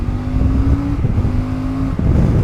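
A CF Moto 450MT motorcycle engine revs up loudly nearby, its steady drone rising in pitch, dipping briefly, then pulling hard again.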